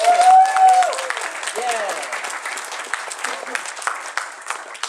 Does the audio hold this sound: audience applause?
yes